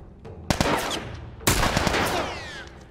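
Gunfire in The Last of Us, two loud close sharp shots about a second apart, each trailing into a short rattling decay.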